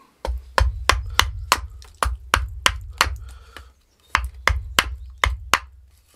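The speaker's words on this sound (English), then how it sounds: "I'll well take this off with the axe, save ourselves some knife work." An axe chops wood while a spatula is being roughed out, with a steady series of sharp, solid thwacks about three per second, close and loud, pausing briefly before another run of strikes.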